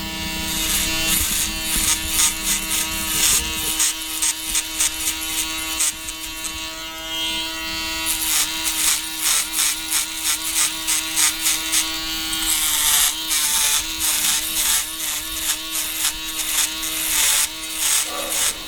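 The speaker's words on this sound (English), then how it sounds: "Gonna use my shavers just to go a little bit shorter." A close electric shaver buzzes in repeated short bursts, cutting hair down to the skin during a skin-faded Ivy League haircut, with a steady rhythmic on-and-off drone throughout.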